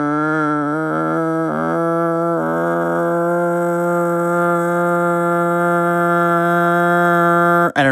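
Someone vocally mimics a small engine revving high, with a few quick pitch wobbles early on before settling into a long, steady, loud whine held for about eight seconds with no other sound.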